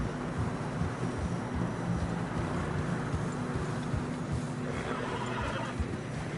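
In the snowy country of Red Dead Redemption 2, horses trudge through fresh snow with steady hoof thuds, a strained whinny rising above a dull wind-like rumble.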